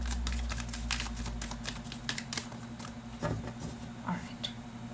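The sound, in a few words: shuffling tarot cards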